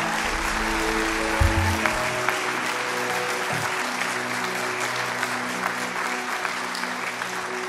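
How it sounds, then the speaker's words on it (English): A church congregation breaks into sustained applause for a pastor who has just earned a Doctor of Theology, with steady clapping filling the room at a moderate level and a few faint voices underneath. "So please, a round of applause."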